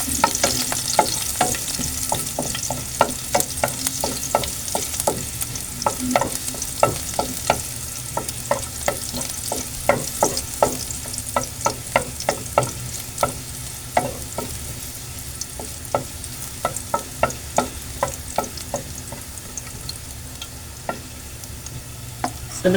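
Garlic frying in oil in a pan, a continuous close sizzle overlaid with a long run of rapid, sharp spatula clicks and scrapes in an uneven rhythm.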